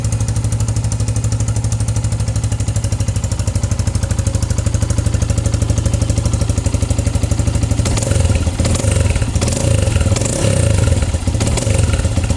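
A cold Yamaha Vixion motorcycle engine, bored up to 165cc, idles with a steady, slightly rough low rumble close by, and extra rattling clatter joins in toward the end.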